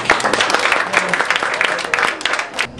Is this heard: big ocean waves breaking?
no